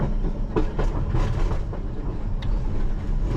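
A London Underground Piccadilly Line train rolls slowly over points, with a rough low rumble and irregular clattering clicks of wheels crossing the track joints, heard from inside the cab.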